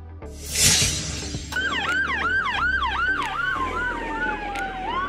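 Police motorcycle siren in a children's vehicle cartoon: a whoosh, then a loud, fast, repeating wail-yelp cycle close by that holds for several seconds.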